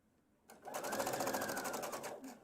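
A sewing machine stitches a 3/8 inch seam on a faux cowl T-top, starting abruptly after a quiet moment and running a close, fast, steady stitching burst for about two seconds.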